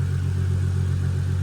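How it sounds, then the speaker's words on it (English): A Holden VY Calais with a swapped L67 engine idles steadily at close range, a deep even rumble holding constant with no revving. "It's been sitting here idling for a good 15 minutes or so now."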